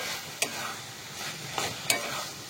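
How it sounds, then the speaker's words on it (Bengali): A spice paste with fried flour pieces being stir-fried, a steady soft sizzle broken by a few sharp scraping strokes of a spatula in the pan, close and quiet with no talking. "মশলাটার সঙ্গে ময়দাটা একটু কষিয়ে নেব।"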